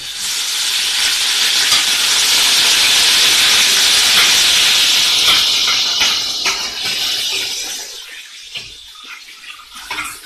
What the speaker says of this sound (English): I'm going to add my garlic ginger. This is very hot oil now.